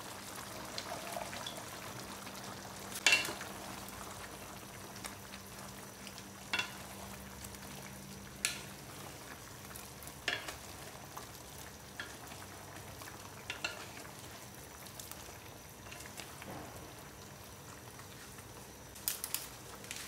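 Chicken and vegetables fry in a pan, a steady soft sizzle broken by occasional scraping stirs and clicks of a utensil against the pan, with no talking.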